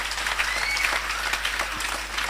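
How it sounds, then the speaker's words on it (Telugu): An audience at a children's home festival applauds the Sunday school teachers, a sustained, even round of clapping from a sizeable crowd with no talking over it. "టీచర్స్ అందరిని బట్టి ఒకసారి చప్పట్లు కొట్టి అభినందించుదామా?"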